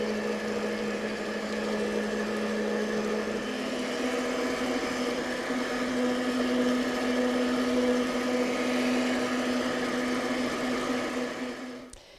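A stand mixer whirring on medium speed through brownie batter, a steady motor hum with a constant pitch that runs evenly throughout and cuts off at the very end.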